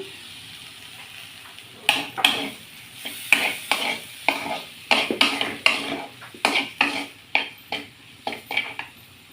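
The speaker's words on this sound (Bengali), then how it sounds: "সব কিছু দিয়ে নেড়ে এটাকে সুন্দর করে নেড়ে চেড়ে মিশিয়ে নেব" Dal stirred in a pan with fried onions, salt and turmeric, a spoon scraping and clacking against the metal in a steady run of sharp strokes over a soft sizzle, close and fairly loud, with no talking.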